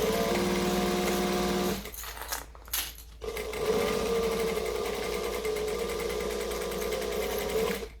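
A domestic sewing machine stitches a bag seam, loud and close with a fast steady whirring hum, briefly pausing mid-run before resuming at full speed.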